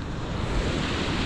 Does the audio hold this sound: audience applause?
no